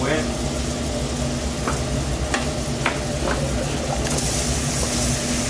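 Mushrooms frying in a pan for coq au vin, a steady sizzle with a few clinks and stirring sounds, and a person speaking in the background.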